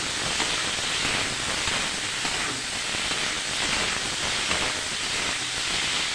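Vegetables fry in a pan for a vegetarian curry with lentil dumplings, giving off a steady, even sizzle and hiss that continues without a break.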